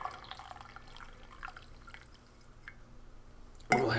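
Hot water poured from a thermos for an arctic ration meal, a quiet trickle with small drips and splashes, close and faint, ending in a louder burst of liquid.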